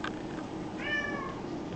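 A cat gives a single clear meow over steady outdoor background noise, near a flooded yard after heavy rains.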